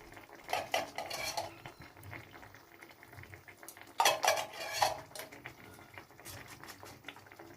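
Ghee going into lemon paneer in a pan, heard as clinking utensils and metal spoon scrapes against the cookware, with two louder bursts of clatter amid a soft simmering bubble.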